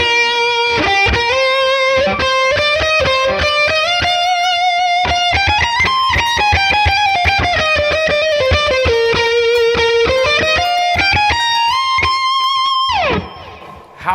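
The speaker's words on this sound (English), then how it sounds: "I mean, it's an electric guitar solo." A sustained, distorted lead guitar line plays continuously, bending and gliding across notes with steady loudness, then cuts off abruptly near the end.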